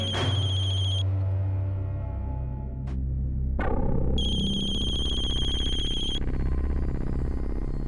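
A mobile phone ringtone plays a repeating electronic melody, loud and close, with brief pauses between bursts of tones and no speech over it.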